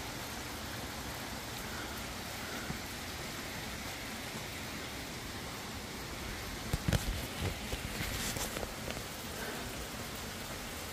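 Heavy morning rain falls as a steady, dense wash of noise that continues without a break, with a few louder knocks and rustles near the end.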